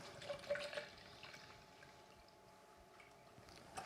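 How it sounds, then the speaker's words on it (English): Almond milk, about 400 millilitres, is poured into a mixing bowl for vegan French toast batter, a faint soft liquid trickle that is strongest at the start and then fades to quiet. "we're going to add 400 millilitres of almond milk"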